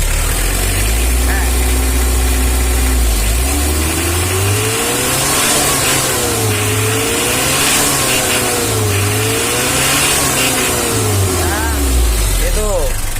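A 1994 Mitsubishi L300 minibus diesel engine runs loud and close, its low rumble rising and falling in pitch as it revs a few times over a steady idle.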